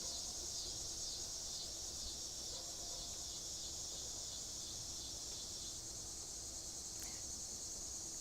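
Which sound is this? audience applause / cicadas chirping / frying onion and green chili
cicadas chirping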